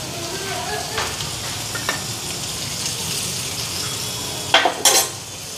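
Onion and green chili sizzle steadily in hot oil in a pan, a constant frying hiss with a few utensil scrapes and clinks near the end.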